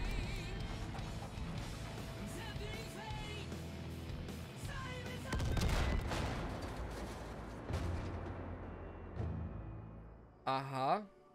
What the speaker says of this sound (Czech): Ono to letadlo střílí.